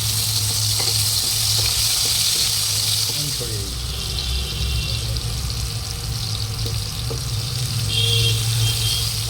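Potatoes fry in hot oil, giving a loud, steady sizzle throughout, with a voice speaking over it at times.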